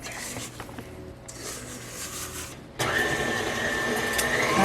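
An electric mixer whirs through gluten-free dark chocolate crinkle cookie dough, a steady buzzing drone that jumps louder and harsher partway through, as if the speed was raised.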